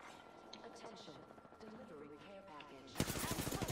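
Automatic gunfire in the video game Apex Legends, rapid bursts that surge loudly near the end, with players talking over the shooting throughout.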